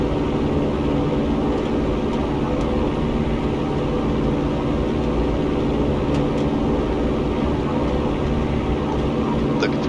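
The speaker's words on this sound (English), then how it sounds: "Full throttle, and maintain runway centerline." Light aircraft engine held at full throttle during the takeoff roll, a loud, steady, unbroken drone with heavy low rumble and no voices over it.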